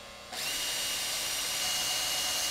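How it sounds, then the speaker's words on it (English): A power drill fitted with a 7/64 bit bores through the side of a Maglite flashlight's metal casing, a steady high whine that starts abruptly after a brief quiet moment and holds loud and close. "I'm just going to drill through the side of the casing here."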